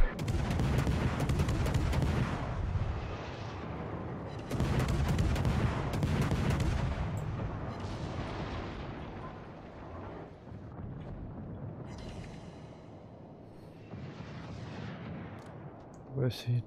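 Heavy booming naval cannon blasts from warships in a game, loud bursts followed by rumbling decay, with someone talking over the battle.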